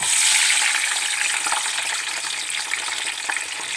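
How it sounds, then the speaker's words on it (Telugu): Cumin seeds, green chillies and onion frying in hot oil for a fish curry, giving a loud, steady, close sizzle that hisses continuously with slight stirring texture. "ఇప్పుడు స్టార్టింగ్ జీలకర్ర పచ్చిమిర్చి ఉల్లిపాయ వేస్తున్నాను ఫ్రెండ్స్."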